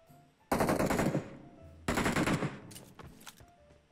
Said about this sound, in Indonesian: Mana nembak gua?